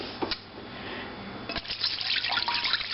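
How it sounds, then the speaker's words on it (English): About two cups of water pour into a cooking pan, a close splashing gush that starts light, swells and keeps running steadily as the pan fills. "I'm going to put about 2 cups of the water"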